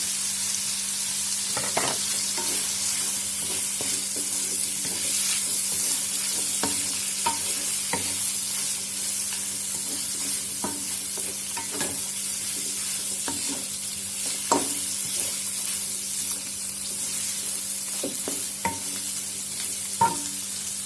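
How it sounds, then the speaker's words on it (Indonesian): Tofu puffs stir-fried in a pan for an East Java vegetable dish, steady sizzling hiss with scattered spatula scrapes and clinks against the pan throughout, close and continuous, no talking. "Tumis sebentar aja. Masukkan juga tahu pong."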